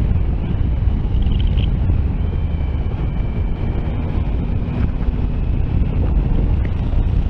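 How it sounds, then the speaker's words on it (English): Strong wind roars and buffets against the microphone in a constant, rough rush, with a faint motorcycle engine hum underneath. "It's quite windy, isn't it?"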